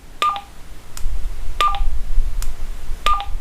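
An Anytone UVA-1 handheld radio sounds its second roger beep option, a short electronic tone chirp repeated three times at even intervals over low background hiss, with no talking.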